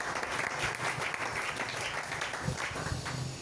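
A church congregation applauding together in steady, dense clapping that fills the space and continues unbroken throughout.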